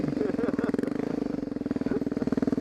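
A TTR 250 dirt bike engine running close by with a steady, rapid thumping idle-like pulse throughout, loud and unbroken.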